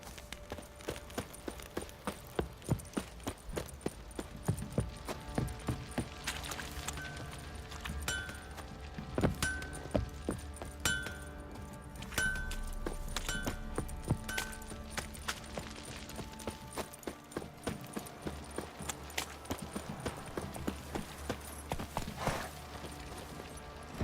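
A horse galloping in The Witcher 3: Wild Hunt, steady rhythmic clip-clop hoofbeats continuing throughout at moderate level, with faint game ambience behind.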